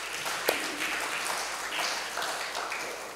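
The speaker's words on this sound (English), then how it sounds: "let's give a hand clap for that message" A church congregation claps together after a sermon, a soft, even spread of many hands with one sharper clap near the start, steady for about three seconds.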